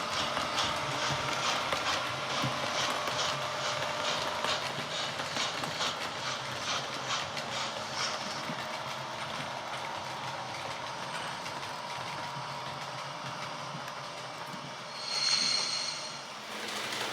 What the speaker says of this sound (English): The Deltic diesel Pinter, pulling an up train to London, passes